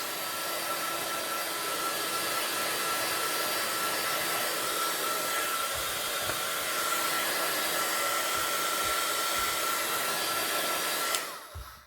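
A hair dryer blows steadily and loudly at close range, drying ink on a stamped card background, a continuous whooshing roar that runs unbroken for nearly the whole stretch before cutting off abruptly at the end.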